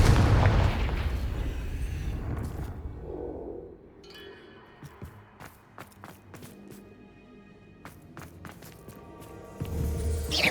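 Fiery spell blasts in Hogwarts Legacy gameplay: a heavy booming explosion, then a quieter stretch of sharp cracks and pops, and another loud rumbling burst at the end.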